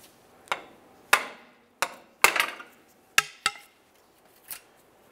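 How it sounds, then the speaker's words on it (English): Pry bar knocking on a power steering rack clamp of a 2003-2011 Mercury Grand Marquis to break it loose, about seven sharp metallic taps and bonks at uneven intervals, close and fairly quiet, with no talking. "there's a little ridge that I can grab onto with a pry bar, give it a couple bonks to break it free"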